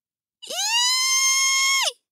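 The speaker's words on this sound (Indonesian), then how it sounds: "Suatu pagi terdengar teriakan jijik dari rumah dokter gigi." A single sustained high scream of disgust from a boy, loud and close, holding steady for about a second and a half before cutting off, with silence around it.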